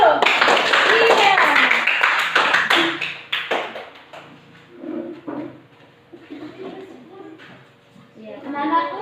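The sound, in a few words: class clapping hands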